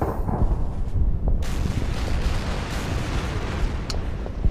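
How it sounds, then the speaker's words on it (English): Battleship and cruiser gunfire pounding a concrete bunker in a US Marines Guam strategy war game, a dense continuous roar of booming artillery and explosions with a few sharper cracks, loud and steady throughout. "Battleship and the cruiser's fires on the concrete bunker."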